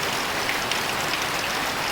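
Steady rain falls outdoors on a Friday morning in the Ouazzane and Sidi Redouane area, a dense, even hiss of drops close by with no voices.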